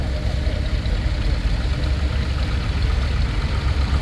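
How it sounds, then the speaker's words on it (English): A heavy vintage tractor engine idles steadily and loudly at an agricultural show's tractor parade, a deep rumbling drone with a rough, knocking texture and no voices. "now we have the Monster tractor"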